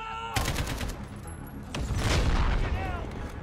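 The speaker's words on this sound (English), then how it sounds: "Was that shotgun? What is this? Oh yeah, it's the shotgun." A shotgun firing in Call of Duty: Modern Warfare story mode, part of a loud, dense burst of blasts and booms that stays heavy for several seconds and is mixed with game effects.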